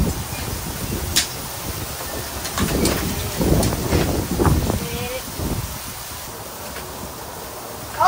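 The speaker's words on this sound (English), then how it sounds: "the wind was supposed to stop. And surprise, surprise, it didn't." Wind gusting across an open farmyard, a steady broadband rush with swelling gusts and buffeting against the microphone over about eight seconds, loud and close with no other clear sounds.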